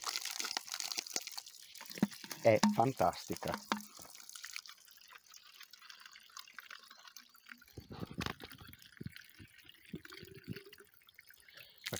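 Spring water from Monte Zatta splashes and gurgles into a bottle in short uneven bursts, with crinkling plastic and handling noises close by, followed by quieter drips while a person speaks briefly.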